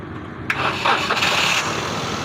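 A boat or vehicle engine being restarted after it had failed to start again right after running, cranking briefly then catching and running loudly and steadily, close up with no talk.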